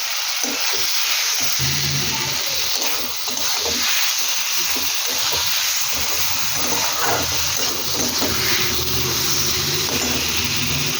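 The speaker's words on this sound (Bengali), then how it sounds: "নুন দিয়ে এটা ভালো করে কষিয়ে ফিরছি" Potatoes and spices fry in a pan with salt, a steady, fairly close hissing sizzle with occasional bubbling and scraping that runs unbroken.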